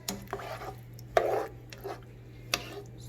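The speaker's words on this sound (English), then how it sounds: "Stir it up nice." Rasta pasta in a cream sauce stirred in a pan over low heat, with a few scraping strokes and light utensil knocks against a low steady hum, close by and without talk.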